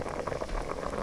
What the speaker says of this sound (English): So we got the potatoes boiling.